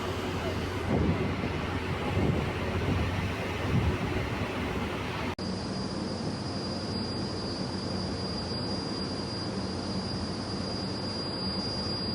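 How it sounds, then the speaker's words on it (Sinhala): Cold wind buffets the microphone on a whale and dolphin watching boat off Galle, Sri Lanka, with a steady loud roar of wind and sea noise throughout and a brief dropout midway. "සීතල සුළං එක්ක"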